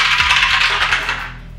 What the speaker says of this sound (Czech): budu házet na 5 a víc 2 kostkama